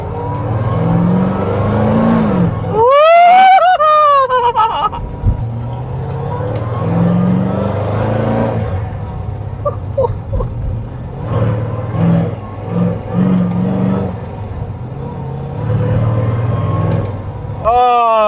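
A cammed Corvette Z06 V8 revs hard with rising and falling pitch, loud and close, then drops to a lumpy, choppy idle. Excited speech comes in over the engine at times.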